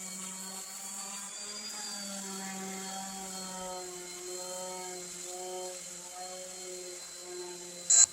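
A power sander runs lightly over a wooden table being refinished with an exterior wood finish. It makes a steady, moderately loud motor whine whose pitch drifts slightly throughout.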